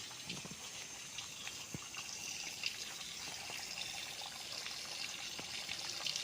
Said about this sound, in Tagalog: Yan na po ang ilog mismo katabi ng property.